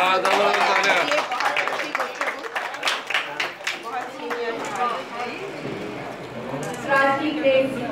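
An audience claps at an award ceremony during a mushaira, with uneven, scattered applause over which an announcer keeps talking.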